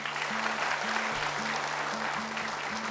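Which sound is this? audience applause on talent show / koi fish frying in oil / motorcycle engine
audience applause on talent show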